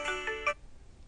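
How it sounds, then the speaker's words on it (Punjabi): A phone ringtone plays a short bright melodic burst of three tones, then cuts off into silence. "ਭਾਬੀ ਦਾ ਫੋਨ ਆਇਆ ਪਿਆ"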